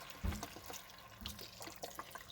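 Chicken broth, eight cups of it, is poured from a container into a soup pot for beef quinoa soup, a steady close liquid stream with a soft splashy onset and no talk.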